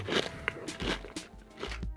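A crunchy deep-fried hash brown gets bitten into up close, giving a few sharp crisp crunches with brief chewing crackle and no speech.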